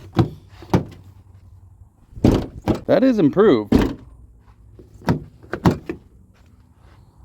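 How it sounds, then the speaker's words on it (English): The front door of a 2004–2007 Nissan Armada, fitted with a new hinge, swings open and shuts several times with solid thunks and creaking, close by. Someone talks briefly between the door sounds. "I'm going to see how the door opens and closes now."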